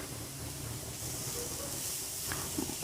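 Grated carrots for carrot halwa sauté in a pan with a steady, close hiss that holds from start to finish, and a couple of faint clinks come near the end.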